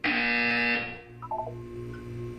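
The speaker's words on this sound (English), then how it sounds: "You will hear a buzzer." Loud electronic buzzer in the video game Portal 2, one steady tone lasting under a second, followed by a quieter chiming tone pattern.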